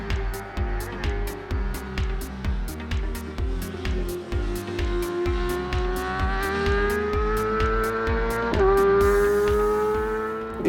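A 2017 Yamaha YZF-R6 sport motorcycle with a full exhaust system revs loudly and close by, its engine note climbing steadily with rapid pulsing firing and a brief blip near the end, with no talk over it.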